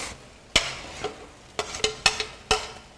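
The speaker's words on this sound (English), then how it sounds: "Now that this is thickened, we can add in our seared beef." Seared beef stirred into a thickened stroganoff sauce in a pan, a handful of sharp utensil clacks and scrapes against the pan at irregular intervals over a low, soft sizzle.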